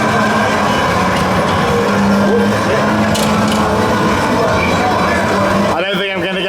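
A Sega Rally 3 arcade racing cabinet roars with engine and tyre sounds in a busy amusement park arcade, loud and continuous, with a person talking over it.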